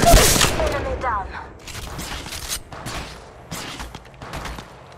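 Rapid bursts of gunfire in the Apex Legends Mobile battle royale game, loud and close, with a sharp opening volley followed by several shorter clusters of shots and mechanical clanks.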